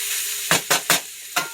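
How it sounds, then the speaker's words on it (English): A spoon stirs shepherd's pie filling frying in a pan, making several scraping strokes over a steady sizzle. The strokes come in an uneven rhythm, and there is no talking. "I'm going to go ahead and mix this up to prevent it from burning."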